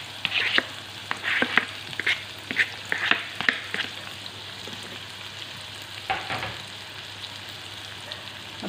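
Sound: chopped onions frying in oil with cumin

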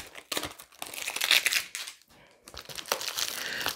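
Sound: tearing open a taped package

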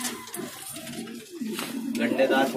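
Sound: pigeons for sale in Delhi

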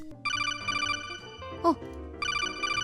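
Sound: telephone ringing before being answered

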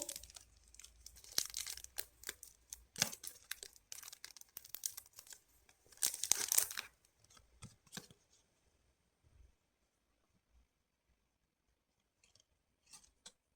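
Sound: crinkling plastic wrapping on K-pop album photocard

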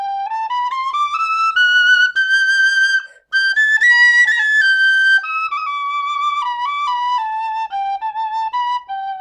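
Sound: penny whistle being played

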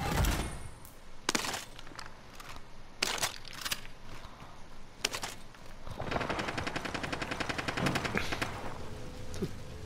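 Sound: gunfire in the video game Warzone

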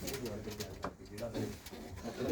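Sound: pigeons cooing

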